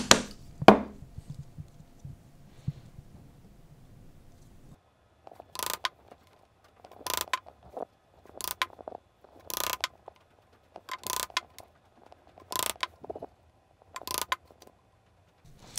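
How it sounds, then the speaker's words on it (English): Hand chisel working across the grain of a carved wooden coaster: a rumbling scrape first, then a series of short, crisp cutting strikes in an irregular rhythm, close and fairly quiet, with no talking. "this chisel is really kind of dipping into the grain this way"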